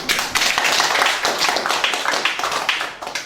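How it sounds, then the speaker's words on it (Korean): An audience at a meditation and poetry workshop claps to welcome a speaker, loud close hand claps spread over a few seconds. "우리 대표님을 큰 박수로 모셔보겠습니다."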